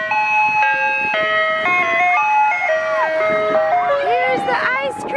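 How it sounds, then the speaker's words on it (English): An ice cream truck plays its jingle, a clear, bright electronic melody of stepped tones heard up close, ending in a warbling flourish. "Here's the ice cream truck!"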